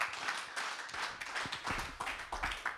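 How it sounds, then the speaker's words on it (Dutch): An audience claps and applauds warmly for a few seconds, a dense patter of many hands with no voices over it. "Geef hem alvast een warm applaus."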